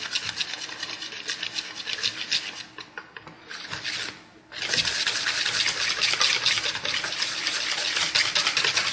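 Club soda batter is stirred in a bowl, giving a steady, wet, scraping swish that repeats rhythmically, with a brief pause midway and no talking.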